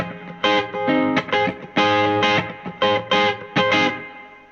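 Gibson Firebird electric guitar on its neck pickup alone, played through distortion in a handful of loud, sustained chords and notes with short gaps between them, close and clear with no talking.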